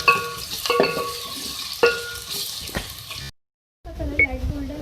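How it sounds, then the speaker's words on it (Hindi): Two medium onions fry in oil while being stirred, a steady close sizzle broken by clinks and scrapes of a utensil against the pan, with a brief silent gap near the end. "सबसे पहले ऑयल में 2 मीडियम साइज़ के प्याज ऐड करेंगे को लाइट गोल्डन फ्राई करेंगे।"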